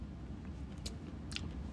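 A gummy candy chewed close to the mic in a few soft, wet crunching bites, standing out faintly over a steady background hiss.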